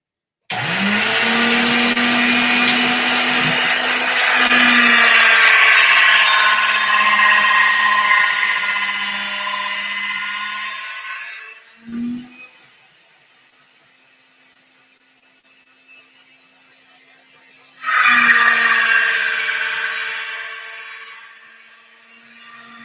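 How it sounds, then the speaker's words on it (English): Electric pasta machine running loud and steady for about eleven seconds, a short burst afterward, then a quiet gap before the motor starts again for another few seconds and winds down. "now I'm going to run these in the pasta machine real quick"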